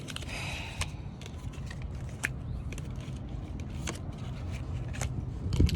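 Soft, irregular papery flicks and riffles of tarot cards being shuffled with long nails, close by, with a steady low background rumble and no talking.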